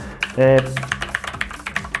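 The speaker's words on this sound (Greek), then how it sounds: "Πολύ ωραίο gaming πληκτρολόγιο, να ξέρετε όμως είναι λίγο ενοχλητικό" Rapid clacking keystrokes on a Motospeed CK103 mechanical gaming keyboard, close and steady, with a brief sustained tone near the start.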